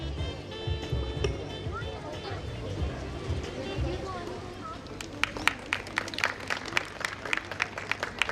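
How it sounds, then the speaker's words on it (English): Applause after the lamp lighting at a fashion institute convocation, sharp scattered claps growing denser and louder partway through, over a background of murmuring voices and hall noise. "Yes, a huge round of applause for lighting of the lamp."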